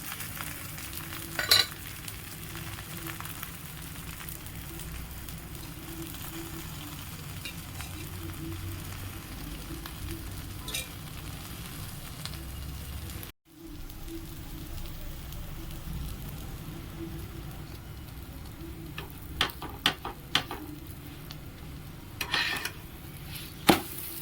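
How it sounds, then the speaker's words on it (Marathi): Aloo paratha frying in ghee on a hot pan, a steady close sizzle throughout with a brief dropout midway and a few sharp clicks and scrapes near the end. "तूप घातलं आणि पराठा तर शेकून घेऊ"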